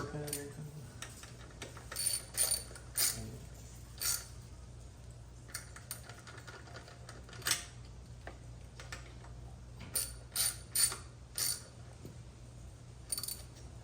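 A ratchet with a 12mm socket snugs down bolts on an SR20 engine, giving soft, irregular clicks in short bursts against a steady low hum, with no talking.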